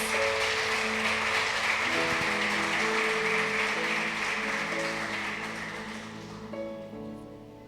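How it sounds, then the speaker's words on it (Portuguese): A church congregation claps together during a service, steady broad applause that gradually thins and fades while instrumental tones sustain beneath it. "Aplaudam o nome do Senhor, por favor, em nome de Jesus."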